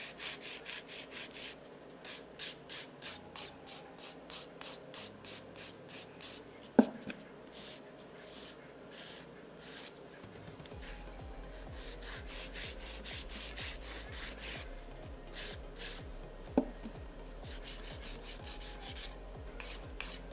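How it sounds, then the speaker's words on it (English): Acrylic nail tip filed thinner with short rhythmic rasping strokes, a steady series of close dry scrapes with a couple of sharp clicks partway through and a faint hum underneath. "And then I just file the tip thinner."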